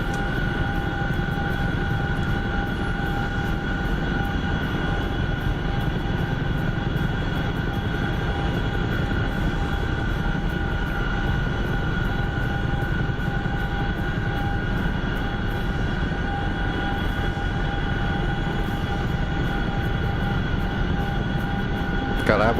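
Chinook helicopter in a flight simulator game, a steady, loud rotor and engine drone running unbroken from start to finish with a few faint thin tones riding on top.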